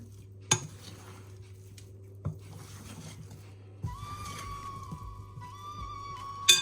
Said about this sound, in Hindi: इसको अच्छी तरह आपने मिक्स कर लेना।